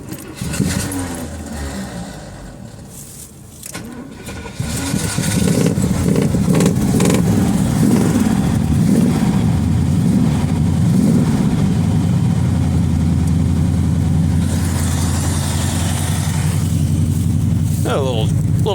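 An old Chevrolet Monte Carlo, low on gas and barely running, cranks and fires up, then settles into a loud, steady low idle; voices talk briefly near the start.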